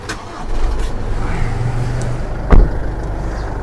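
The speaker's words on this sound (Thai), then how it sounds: "เรามาฟังเสียงเครื่องยนต์กันบ้าง" A 2020 Isuzu D-Max pickup's 3.0-litre diesel engine idles steadily with a low rumble, close by, with a brief louder thump partway through.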